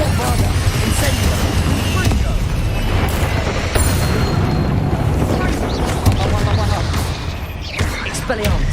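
Bombarda and Confringo spells explode again and again in Hogwarts Legacy, loud booms and blasts landing at irregular intervals over a constant thick roar of battle, with a voice calling out now and then.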